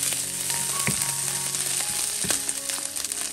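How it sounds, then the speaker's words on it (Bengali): Chopped onions fry in hot oil in a kadai with a loud, dense, continuous sizzle, close by, broken by a couple of faint clicks of a utensil, and no talking. "তেল ভালো মতো গরম হয়ে যাওয়ার পরে পেঁয়াজ কুচি অ্যাড করে দিলাম"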